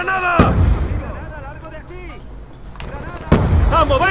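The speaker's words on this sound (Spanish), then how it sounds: "¡Granada!" Grenade blast and gunfire in the video game Black Ops 2, two sharp loud explosive hits with ringing tails and scattered pops between, while a voice speaks excitedly over the battle.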